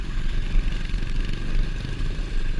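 A motorcycle engine drones steadily as the bike pushes through deep floodwater, with a continuous, fairly loud low rumble and churning that never lets up.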